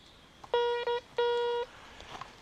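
A metal detector sounds its signal over a buried WWI German stripper clip while metal-detecting for military relics outdoors: two close, clear electronic tones, the second held longer, against a quiet background.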